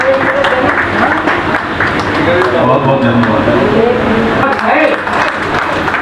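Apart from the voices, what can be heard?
audience applause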